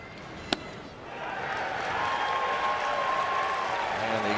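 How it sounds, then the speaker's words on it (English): A baseball crowd at a Cincinnati at Pittsburgh game swells into a sustained, broad roar of cheering and applause after a single sharp crack near the start, staying loud and steady to the end. "And the exaggerated cheer from the crowd to get an out."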